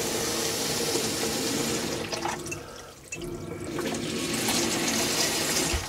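Water runs steadily from a newly fitted mixer tap in a camper van, a close, continuous gushing stream splashing into the sink, briefly dipping as the flow shifts before resuming full and alone.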